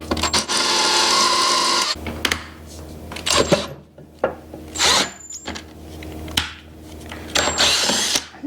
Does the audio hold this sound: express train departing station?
no